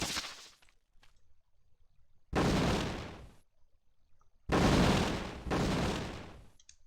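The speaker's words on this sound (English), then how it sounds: "it's just fun to shoot cannons" Cannon shots in the video game Might & Magic VII, three loud broadband blasts fired one after another, the last two close together, each with a short decaying tail and quiet gaps between.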